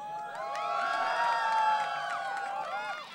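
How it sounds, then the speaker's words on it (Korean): A large university audience cheers, whoops and shouts at the opening of a winter campus song festival, a loud sustained swell of voices that builds and then eases over a few seconds. "여러분들 박수와 함성!"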